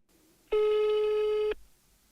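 A single steady telephone tone sounds for about one second on an unanswered call, alone and clear against near silence.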